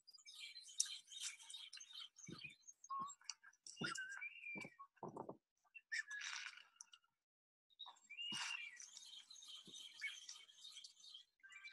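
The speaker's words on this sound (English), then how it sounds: "you are going to hear the whistling sounds of their call" Whistling calls from a flock of birds in the Galapagos, thin squeaky notes that rise and fall in bursts and clusters, some near and some farther off, with a short quiet gap partway through.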